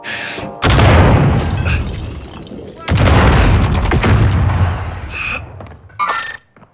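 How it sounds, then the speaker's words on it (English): Gunfire and explosive blasts in the Call of Duty Modern Warfare Zombie Royale video game, two long loud bursts of heavy shooting and booms that fade, then a few sharp final pops. "I'm taking fire!"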